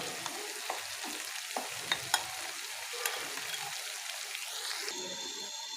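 Chicken tikka frying in a karahi pan, a continuous close sizzle with light stirring scrapes and a few spatters, steady and fairly quiet throughout, no voices.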